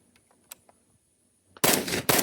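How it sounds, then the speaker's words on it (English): Two loud, close 5.56 rifle shots from a 13-inch Galil ACE fitted with a flash hider, sharp cracks fired in quick succession after a few quiet handling clicks. "I'm just gonna let off a couple rounds."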